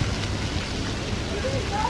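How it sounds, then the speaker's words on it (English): Rain falling at a beach playground, a steady soft hiss of drops on surfaces throughout, with faint voices and a brief high tone in the background. "now it's raining again"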